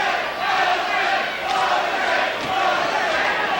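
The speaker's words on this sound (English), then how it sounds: "Crowd taking up a chant of Jose." A boxing arena crowd at a 1986 Mike Tyson versus Jose Ribalta heavyweight fight chants a fighter's name in a loud, rhythmic roar that swells and dips, with a commentator's voice mixed in.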